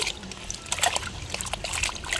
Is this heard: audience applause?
no